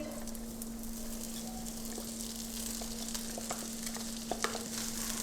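Cabbage sautéing in two tablespoons of oil gives off a soft, steady sizzle, with a few light stirring clicks and a faint constant hum underneath.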